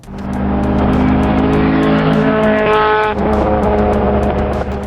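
A naturally aspirated four-cylinder Nissan Pulsar VZ-R homologation engine revs hard and loud, rising in pitch with harmonic whine, then drops and steadies, continuous throughout with no talking.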